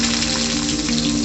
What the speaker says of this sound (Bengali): তারপরে দিয়ে দেব কেটে রাখা আলু।